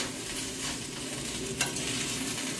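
Food sautés in a pan with a steady, close sizzle and a brief scrape of a spoon partway through, with no voices.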